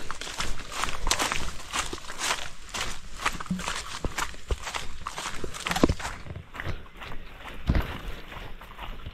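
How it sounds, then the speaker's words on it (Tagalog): Horse hooves clopping past on a ground path outdoors, an uneven run of dull thuds over steady rustling background noise, moderately close. "Parang may dumaan kabayo."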